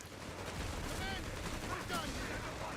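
Machine gun fire crackles in a strategy video game tournament match as the gun suppresses rifleman squads, a dense steady rattle under a continuous wash of battle noise.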